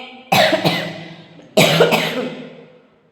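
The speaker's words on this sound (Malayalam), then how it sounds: "ഭയങ്കര ചുമ സംസാരിക്കാൻ പറ്റുന്നില്ല" Two loud, harsh coughing fits, each a quick burst that trails off, close to the listener.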